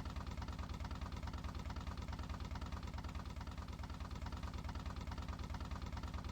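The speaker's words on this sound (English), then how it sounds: "You hear the motorcycle" Motorcycle engine in the Minetest video game, a steady low rhythmic idling chug that pulses evenly and continuously throughout, fairly quiet and alone without talk.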